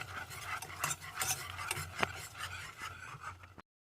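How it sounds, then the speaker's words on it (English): A spoon stirs a thick shepherd's pie filling dusted with flour, making a continuous close scraping and rubbing sound against the pan with a steady rhythm and one sharper knock midway. "And mix it."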